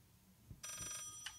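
A telephone rings in the Layers of Fear horror game, a faint bright electronic ring starting partway through and sounding twice over a quiet, low background hum.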